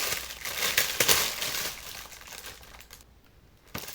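Plastic packaging crinkles and rustles steadily during the unboxing of an AliExpress parcel, with dense close-up crackling that eases off, then a brief silence before a final crinkle.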